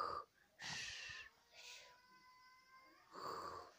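A person imitates snoring up close and quietly, producing several wheezy, snorting breaths separated by short pauses.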